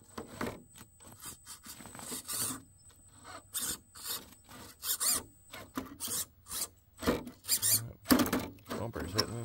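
Plastic bumper of a small Redcat RC crawler truck scraping and grinding against an obstacle, a series of rasping drags in short bursts, close by, with someone talking over parts of it.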